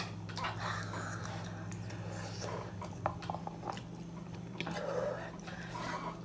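Someone chews and eats spicy noodles close to the mic, with soft wet bites and squishy mouth sounds over a low background hum.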